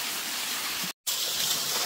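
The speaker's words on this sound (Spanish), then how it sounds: "Bien bonita está la cascada." Jungle waterfall rushing as a steady, broad hiss of falling water, loud and close, briefly cut to silence midway before resuming.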